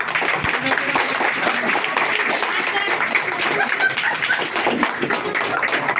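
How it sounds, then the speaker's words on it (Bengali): A group claps loudly and continuously throughout a home birthday celebration, with the sound dense and up close and voices mixed in. "নাও কেটে দাও, সবাই হাত তালি জোরে।"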